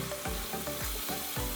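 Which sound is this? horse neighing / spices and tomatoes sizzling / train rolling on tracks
spices and tomatoes sizzling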